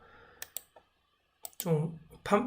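A few sharp computer keyboard key clicks tap out near the start, then a pause before a voice speaks over the last second.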